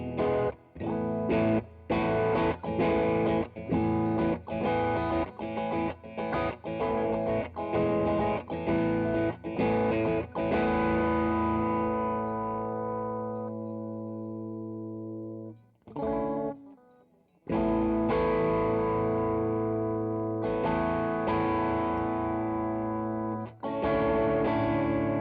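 Electric guitar played through a modded Boss DS-1 distortion pedal, loud distorted chords struck in a rhythmic pattern, then long sustained ringing chords fading out before more strummed chords resume.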